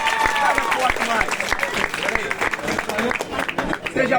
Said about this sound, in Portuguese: Salve de palmas aí, ó.